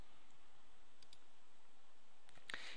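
A single sharp computer mouse click sounds near the end, close and crisp, after a stretch of quiet room hum with a couple of faint ticks.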